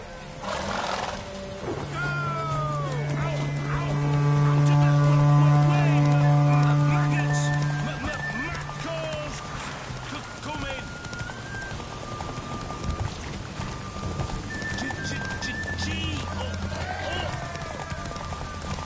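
Horse in The Witcher 3 video game, galloping with rhythmic hoof clip-clop and a loud neigh or whinny near the start, over game music and steady background sound, with someone talking throughout.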